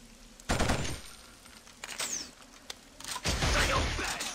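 Gunfire in a Killzone mission, with separate bursts of automatic fire, a loud volley near the start and another toward the end, quieter single shots in between and no talk.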